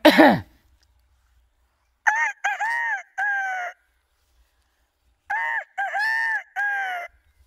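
A man imitates a rooster's crow with his voice, a cartoon voice mimic producing two sets of three-part crowing calls separated by silence, loud and close, after a brief vocal burst at the start.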